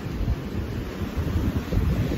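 Ocean surf and wind at Santa Monica beach near the pier: a continuous broad roar of waves with gusting wind buffeting the microphone, no clear voices.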